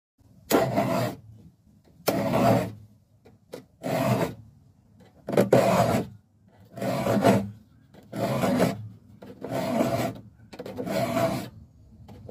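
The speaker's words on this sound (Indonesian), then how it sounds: "Ini saya menggunakan gosok atau kikir berukuran sedang saja ya." Medium-sized metal file sharpening the teeth of a wood saw, eight or so rhythmic rasping strokes, each about a second long and separated by short pauses, close and clear with no talk.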